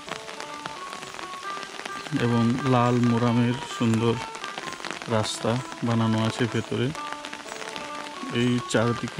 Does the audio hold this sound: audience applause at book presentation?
no